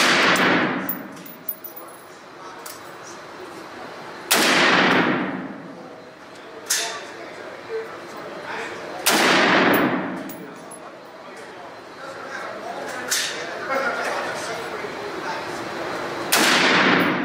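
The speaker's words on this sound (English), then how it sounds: "And then fire the gun when you're ready." A firearm with a safety lever and detachable magazine fires about six loud shots, each a sharp crack with a reverberant tail, spaced irregularly a few seconds apart.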